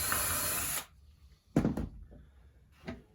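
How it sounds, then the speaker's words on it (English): A power drill boring screw holes for cupboard door hinges in a pallet cabin, whirring steadily for under a second before stopping, then followed by a couple of short knocks and handling clatters of the wood nearby. "So we're drilling"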